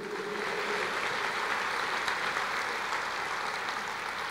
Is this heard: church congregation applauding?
yes